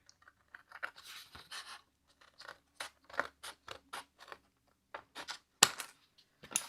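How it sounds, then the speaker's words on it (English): Scissors snip through a die-cut paper card during card assembly, a string of short crisp cuts in uneven bursts, close and fairly quiet, with no talk. "Let me grab my scissors."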